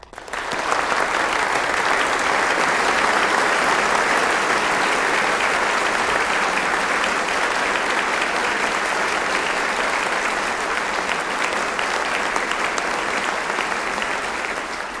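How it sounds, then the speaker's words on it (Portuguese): A large audience applauds steadily after a speech, a thick, sustained wall of clapping from many hands that holds at full strength for the whole stretch without any voice breaking through. "Subiram pra aplaudir, não foi?"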